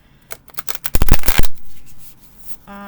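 Tarot cards riffled together in a quick flurry of soft flutters that build into a dense, loud burst, then settle into a brief rustle.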